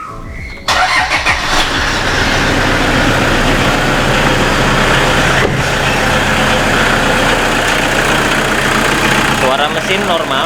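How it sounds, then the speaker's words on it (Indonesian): Toyota Innova G 2009 with a 2KD 2500cc turbo diesel engine, idling steadily and loudly up close with a rough, even diesel clatter right after a short quiet start. "Oke, kita dengarkan suara mesinnya."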